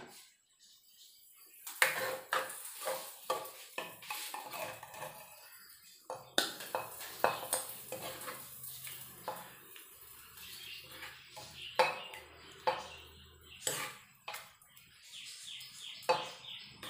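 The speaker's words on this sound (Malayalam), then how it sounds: "നമുക്കിനി ഇതൊരു സെർവിങ് ഡിഷിലേക്ക് മാറ്റാം" Egg curry is moved from a pressure cooker into a serving dish with intermittent sharp metallic clinks and scrapes of utensils, while birds chirp faintly in the background and no one talks.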